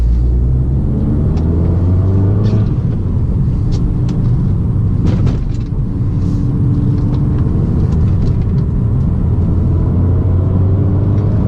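Engine of an Abarth 595 Turismo with 165 HP, droning steadily from inside the car while driving, a loud continuous low rumble with rising and falling engine tones and a brief bump midway, no talk.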